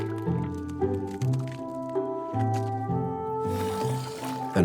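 An elephant in the wild stirs mud for a mud bath, making wet squelches and sloshing drips close by, with a steady musical bed running underneath.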